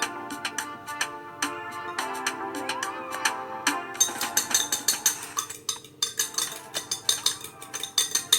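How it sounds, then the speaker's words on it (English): A utensil scrapes and clinks against a bowl while dry corn muffin ingredients are stirred together, with uneven taps turning into a quicker rhythmic clatter. "Mix all dry ingredients together."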